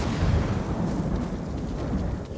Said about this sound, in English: Well, the storm is definitely coming.